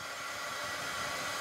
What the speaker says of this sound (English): Get that hair dryer out again.